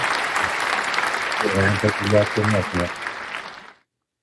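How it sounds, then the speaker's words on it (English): A podcast host claps for a special guest arriving in the studio, a brisk run of hand claps with a voice calling out over the middle stretch before it cuts to silence. "You get an applause from me."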